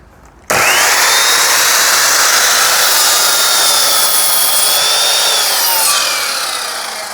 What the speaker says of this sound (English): I'm just going to cut off the excess so they're both exactly the right height.